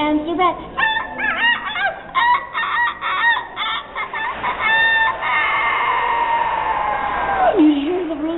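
A woman imitates a rooster crowing with her voice, producing choppy clucking bursts that rise into a long, strained cock-a-doodle-doo and then drop off sharply, close and loud.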